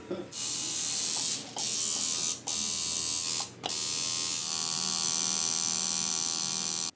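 A tattoo machine shading a tattoo in dark red gives a steady, close electric buzz that runs almost the whole time, broken by three short pauses near the start.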